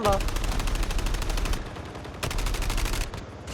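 Rapid bursts of gunfire in quick succession in a battle royale video game, loud and close, broken by a short pause before the shooting resumes.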